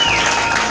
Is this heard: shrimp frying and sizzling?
no